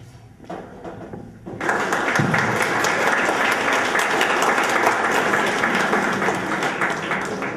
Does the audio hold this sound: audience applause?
yes